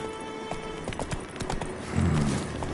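Roach the horse's hoofbeats in The Witcher 3: Wild Hunt, a steady clip-clop of hooves over game ambience, closing with a snort or whinny as the horse pulls up.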